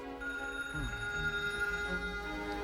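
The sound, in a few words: telephone ringing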